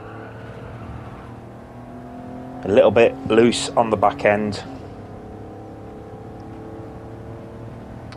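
Maserati Merak engine in Gran Turismo 7 hums steadily through the whole lap, with a louder burst of revving shifts in the middle while someone talks over it.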